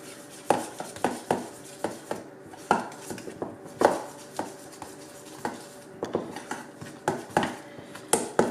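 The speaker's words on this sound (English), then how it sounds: "just mix it up a little bit" Batter being mixed in a bowl for home baking, a utensil knocking against the sides in a steady run of sharp clacks and scrapes, close and fairly loud with no talking.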